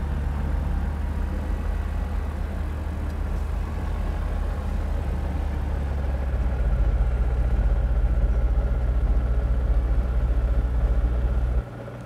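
An AutoGyro Cavalon 915iS gyrocopter engine drones in flight at Oshkosh, a steady low rumble that is muffled and fairly quiet, then swells slightly before dropping off at the end.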